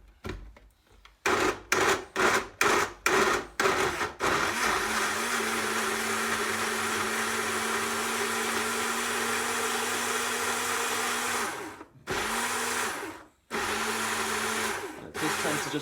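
A Breville Blend Active VBL096 blender blending blueberries: several short pulsing bursts, then a long steady whirring run that stops and restarts briefly, close and loud.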